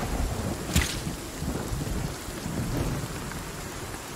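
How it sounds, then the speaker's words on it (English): Thunderstorm in a video game, with steady rain hissing on surfaces and a single sharp thunder crack early, followed by low rumbling under continuous rainfall. "Ooh, I like that thunder."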